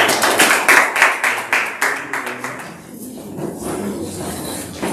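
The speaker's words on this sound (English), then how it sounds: "Then let's clap for ourselves now." A seated audience at a Miss Western 2021 pageant event claps for itself in a brief round of rhythmic, fairly close applause that fades into quieter murmuring.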